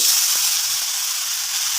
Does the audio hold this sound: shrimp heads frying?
yes